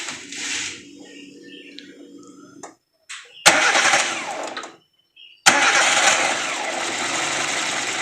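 Chevrolet Spark with a 1000cc engine that drops and stalls with the AC on is cranked and started twice, each time cutting in abruptly to a loud idle after brief silences, with background noise at first.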